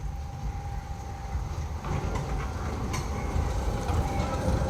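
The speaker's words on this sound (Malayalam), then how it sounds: "ടോയ് ട്രെയിനാണ്" A solar-powered toy train at the Veli tourist village runs along with a continuous rolling rumble and rattle that grows slightly louder, along with a steady tone and some wind, with no clear speech.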